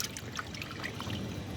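Water trickles and splashes over a fish head being washed, a continuous close gurgling pour, moderately loud, with no talk.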